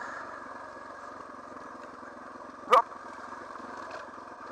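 A Suzuki DR650 motorcycle engine runs with a steady, moderately loud drone while riding, interrupted by one brief sharp knock or clatter partway through.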